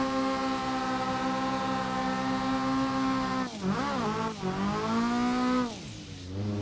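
Engine held at redline in a rear-wheel-drive car drifting on snow in a racing game, a steady high whine with dense harmonics, then sharp dips and swoops as gears shift and revs fall near the end.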